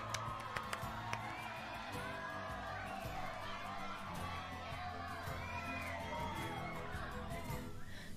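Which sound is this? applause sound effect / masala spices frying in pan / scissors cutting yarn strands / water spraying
applause sound effect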